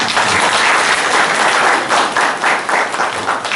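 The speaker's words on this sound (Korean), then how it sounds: "박수 한번 해주세요." A church congregation at an Easter Sunday service claps for a newly baptized member, close, loud and dense hand-clapping that pulses slightly and continues for a few seconds without speech.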